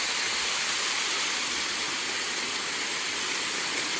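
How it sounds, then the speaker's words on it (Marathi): A waterfall in Palghar after the first monsoon rain, roaring as a steady, dense, broadband rush of falling water that stays even and continuous throughout, with no voices. "तुम्हाला आता दाखवते वरचे धबधबे"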